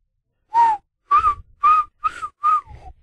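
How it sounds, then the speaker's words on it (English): A person tries to whistle by sucking air inward, giving five short, breathy, wavering whistle tones in an uneven sequence, close and alone. "Wait, you've been sucking in your whistle"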